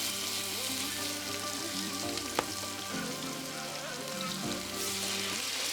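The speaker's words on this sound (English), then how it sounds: "You want to hear that sizzle whenever you lay these down." Chicken thighs sizzle in a preheated skillet with a steady, soft hiss of frying fat throughout and one brief tick partway through.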